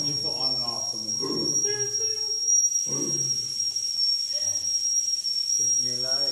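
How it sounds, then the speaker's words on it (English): A steam whistle on a small demonstration steam engine sounds as a steady high hiss-whistle, switched on and off, beneath voices talking over most of the stretch. "Turn the whistle on and off."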